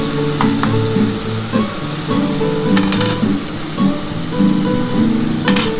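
Spice paste of ground curry leaves, garlic, ginger, green chilli and onion frying loudly in a pan for a catla fish curry, a steady close sizzle broken by scraping stirs and soft clatters, with no voices.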